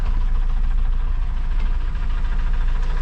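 A GAZ-21 Volga engine running on LPG idles while warming up, a loud, steady, close rumble with a low throb and no talk.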